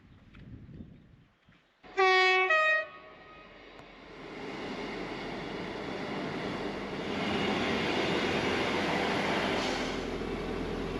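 A train horn sounds briefly, followed by a growing rumble of a passenger train rolling along the Settle & Carlisle line, steady and fairly loud.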